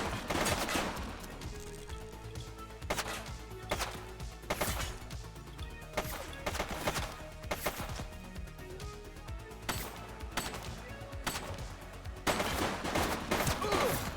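Rapid bursts of gunfire from the police video game The Precinct, loud and dense, with repeated volleys and crashing impacts across the whole stretch, a brief shout heard near the start.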